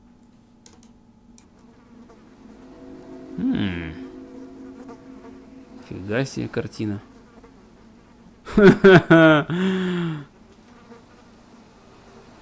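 Flies buzz around a seated bishop in a painting in a video game, coming as three short, close droning bursts that grow louder each time, separated by quiet stretches, while someone speaks briefly.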